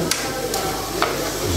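Minced pork offal sizzles as it is stir-fried in a pan, a steady frying hiss with a few scraping stirs of the utensil against the metal.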